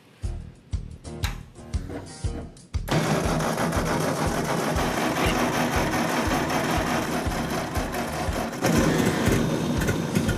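An old, flooded 8N tractor engine sputters and cranks a few times, then catches and runs at a steady, loud, rapid chug close by.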